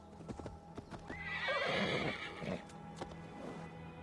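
Hooves clip-clop at a steady pace while a horse lets out a rising, drawn-out whinny midway in the video game Assassin's Creed Valhalla; the sound is clean and game-like, with no talking.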